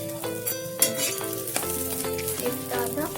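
A paneer sandwich toasting in a pan, with a constant bright sizzle and a few scraping knocks as it is flipped, over a steady tonal hum of background music.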